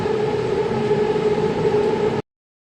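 A loud, steady rumbling drone with a tonal hum, like a train rolling past close by, cutting off abruptly.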